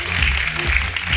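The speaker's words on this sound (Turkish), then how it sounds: "Alkışlıyoruz Ulaş'ı." Studio audience applause on a Turkish late-night talk show, a steady wash of clapping hands with low rumble underneath, moderately loud and continuous with no talk over it.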